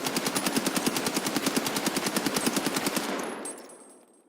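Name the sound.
gunfire from the video game Escape From Tarkov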